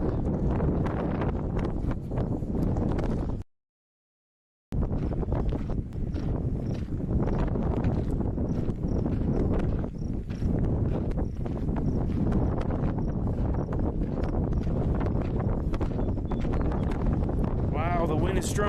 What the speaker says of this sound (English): wow, the wind is strong